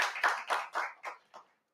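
A small studio audience clapping for a guest on a talk show, about six uneven bursts of hand claps that quickly thin out and fade within two seconds.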